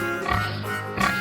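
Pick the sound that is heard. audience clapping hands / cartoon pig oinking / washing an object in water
cartoon pig oinking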